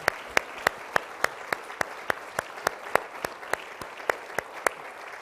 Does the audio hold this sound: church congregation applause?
yes